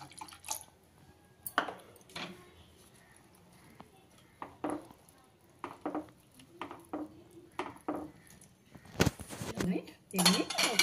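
A spoon clinks and scrapes against a pot while milk is mixed into cooled semiya sabudana payasam. The strokes are irregular and close, with a splashy flurry near the end, and soft talk can be heard in places.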